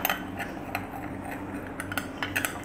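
Yellow and red food colour being mixed with a tablespoon of water, small spoon clinks and taps against a bowl in a quick irregular patter, close but soft, with no voice.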